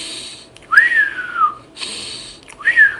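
A human voice imitates the expiratory wheeze of an asthmatic patient: two drawn-out, high whistling exhalations separated by breathy pauses, loud and close, with no speech.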